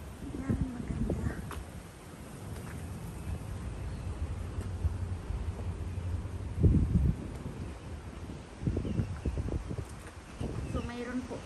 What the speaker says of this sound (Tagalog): Sobrang mahangin dito.